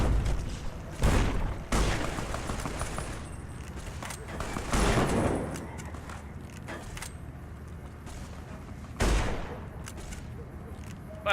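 Shotgun and pulse-slug gunfire rings out in Fallout New Vegas, with several loud booming shots spaced a few seconds apart over a constant, noisy bed of game ambience.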